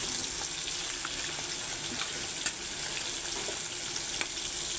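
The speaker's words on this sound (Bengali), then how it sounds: "ঝিঙে দিয়ে আবারও আমি একটু দু মিনিট নাড়াচাড়া করে নেবো" Ridge gourd, papaya and potato cooking in a pan without oil give a steady, close sizzling hiss, with a few faint scrapes from stirring and no voices.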